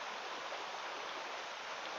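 A river flows with a continuous broad rushing hiss of water, steady and even throughout, moderately quiet and heard alone.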